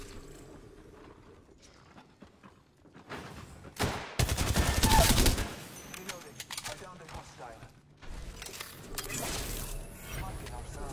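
Video game gunfire comes in short bursts, with a dense, loud volley in the middle and scattered shots around it, under frustrated talk from a player.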